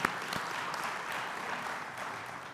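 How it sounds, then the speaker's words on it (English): An audience of attendees at a South Carolina Opportunity Zone summit applauds its speakers, a steady, dense wash of clapping that holds evenly for the whole stretch without a break. "Can we give them a round of applause?"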